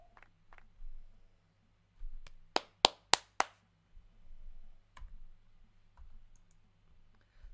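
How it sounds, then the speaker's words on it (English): Dry clapping as a sound effect in the Umineko video game: four sharp, isolated hand claps in slow succession, loud against a near-silent background. Faint clicks come before and after. "Suddenly a dry clapping could be heard."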